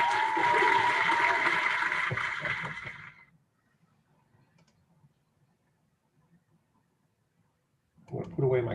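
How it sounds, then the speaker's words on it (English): Applause sound effect played during a live-streamed lecture on exoplanets: a loud burst of clapping for about three seconds that fades to near silence, then a brief return of sound at the end. "I'm going to put away my clapping effect."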